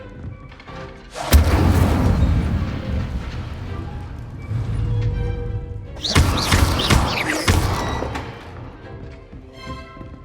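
Two heavy, roaring fire spell blasts in a Hogwarts video game, each a loud whooshing burst that sustains for a few seconds and then fades.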